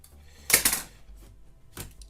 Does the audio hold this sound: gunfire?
no